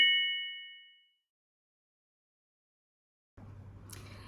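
A bright notification bell ding rings once at the start and fades out over about a second, followed by silence before low background sound comes in.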